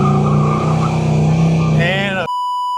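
A 1969 Chevrolet Chevelle Yenko 427 tribute restomod coupe's V8 engine rumbles loudly while driving, a steady low throb that rises in pitch as it revs before cutting off abruptly into a tone.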